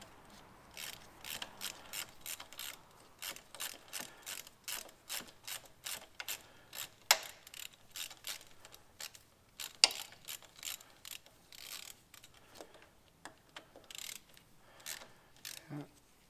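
A ratchet wrench tightens the chain slide bolt on a motorcycle rear suspension. Rapid, regular clicking runs in steady bursts throughout, close but fairly quiet, with no talking.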